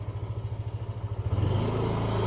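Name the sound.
Yamaha Aerox scooter engine on a test drive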